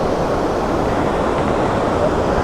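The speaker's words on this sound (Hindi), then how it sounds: "बट जो ये पानी यहाँ से जाता है ये आप देखोगे काफ़ी बढ़िया लुक आती है इसकी।" River water rushes under a bridge, a loud, continuous broadband roar of flowing water with a little wind buffeting the microphone, steady throughout.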